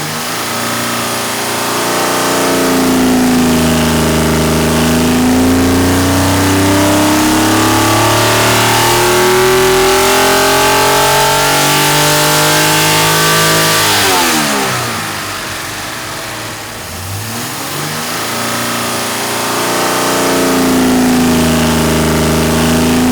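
A low-compression Jeep engine revs hard on a dyno in a naturally aspirated run without a turbo. The loud, sustained engine note climbs steadily in pitch, drops off briefly near the end, then picks up again.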